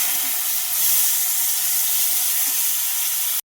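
Potatoes tossed into a hot pan of fried green chilli and cumin for buckwheat khichuri give a loud, steady steamy hiss and sizzle that holds evenly for about three seconds, then cuts off abruptly.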